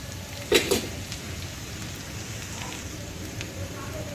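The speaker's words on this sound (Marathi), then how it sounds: "दोन मिनटं या मसा मसाल्याला परतून घ्यायचं आहे" Spices sautéing in a pan while beetroot cutlet filling is cooked, a soft, steady sizzle with one brief clatter near the start, close and faint beneath a speaking voice.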